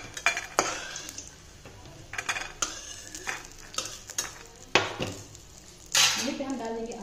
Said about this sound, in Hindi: तो तेल गर्म हो चुका है, इसमें हम डाल देंगे कुछ बड़िया, बड़िया को अच्छे से हम भून लेंगे।